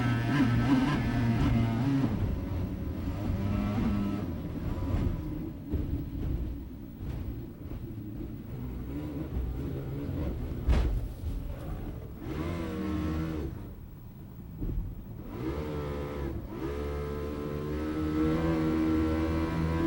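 Racing powerboat Miccosukee Indian Gaming at the Super Bowl Grand Prix, its engine roaring steadily and loudly through a corner, a continuous throaty drone that rises and falls in pitch.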